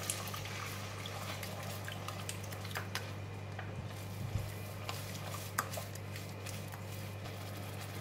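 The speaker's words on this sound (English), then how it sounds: "And put a bit of water." Water splashes into a hot stir-fry pan holding browned garlic and a freshly cracked egg, for a green dragon vegetable dish. A steady close hiss and sizzle runs throughout over a low constant hum, with a few sharp clicks and no talking.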